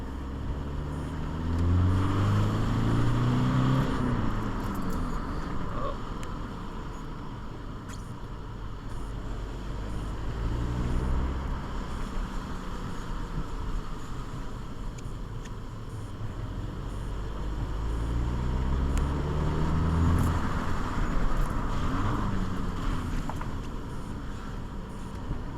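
An Opel Insignia with a DPF-back straight pipe exhaust drones steadily while driving, the engine note rising and falling through gear changes in a muffled, low rumble heard from inside the car with a window partly open.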